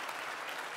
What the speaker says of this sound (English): I knew you'd get a round of applause.